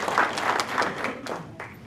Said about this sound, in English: So we should applaud that.